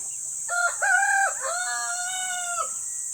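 Chickens in a breeder house on a small farm, a rooster crowing clearly with drawn-out calls over a quiet background hum.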